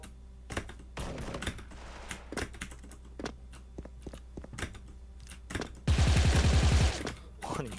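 Hard, forceful computer keyboard typing during an online shooter game, sharp irregular bursts of key strikes with gaps between, then a loud rumbling game sound near the end.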